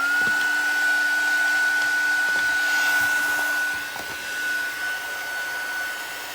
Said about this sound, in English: Now to speed this up, I'm going to heat set it with my heat tool here.